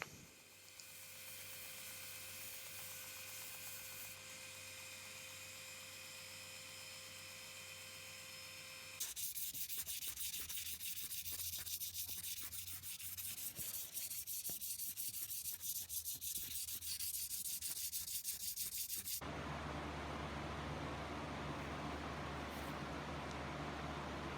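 A belt sander fitted with a flexible 1x30 scalloped J-Flex belt shapes a San Mai nakiri knife handle, giving a steady loud whirring rasp with shifting tone as the wood is worked, alone without talk.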